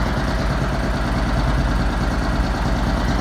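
A rebuilt flathead engine on a Murray riding mower idles steadily up close, a loud, even low rumble with a fast regular pulse running throughout without pause.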